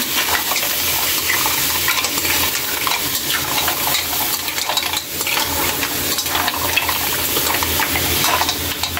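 Shrimp for pancit canton stirred in a pan, giving a continuous close sizzle with a wet, bubbling hiss and the scrape of the utensil, steady and loud throughout.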